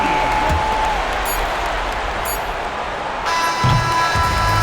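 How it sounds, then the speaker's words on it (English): A home crowd at a basketball game cheers and applauds after a victory, a dense, steady roar of noise that swells slightly near the end, with a commentator's voice faintly under it. "So the home crowd happy here as they get the victory."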